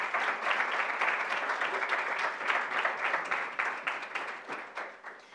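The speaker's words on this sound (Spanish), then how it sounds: "Un aplauso para ellas" Guests at a book launch applaud the staff who worked the reception and sales tables, a lively crackle of many individual claps that swells early and gradually thins toward the end, with no speech over it.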